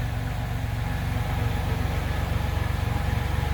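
1993 Buick Park Avenue engine idling steadily, a close, even low rumble with a regular pulsing beat and no voices over it.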